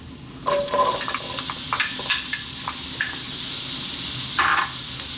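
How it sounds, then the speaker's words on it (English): Onion going into hot spiced oil for a spinach saag curry: a sudden sizzle swells into a steady frying hiss, with a few clinks and scrapes of stirring over it, close and fairly loud, with no voices. "And next up we're going to add our onion."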